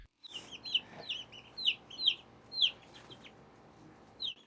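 A black hen clucks in a run of short, high, bright calls, about seven spaced notes with uneven gaps, fairly close and clear over a quiet farmyard background.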